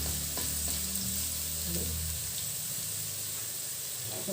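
Onion paste frying for a coconut milk chicken curry, a steady hissing sizzle throughout with a low hum early on.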